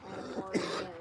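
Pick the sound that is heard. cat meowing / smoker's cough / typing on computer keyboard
smoker's cough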